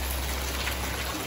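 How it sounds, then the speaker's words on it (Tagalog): Steady rain falling around a farm at midday, a soft continuous hiss of drops on surfaces with a low rumble underneath, evenly sustained with no voices. "maulan ang weather namin ngayon dito"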